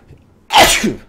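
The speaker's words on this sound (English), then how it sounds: "I think I sneezed my thoughts away." A single sharp sneeze bursts out close and loud after a brief quiet moment, then trails off quickly.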